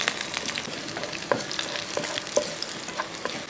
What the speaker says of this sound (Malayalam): വെളുത്തുള്ളി ഒരു രണ്ട് പച്ചമുളകും കൂടെ ഇട്ട് കൊടുക്കുകയാണ് അതിനുശേഷം ഒന്ന് ഇളക്കി ഈ വെളുത്തുള്ളിയൊക്കെ ഒന്ന് മൂക്കണം